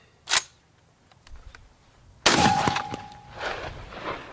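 A Winchester SXP pump shotgun fires a single sharp, loud blast close by. A metallic ring trails off afterwards, with shuffling and handling noise around the shot.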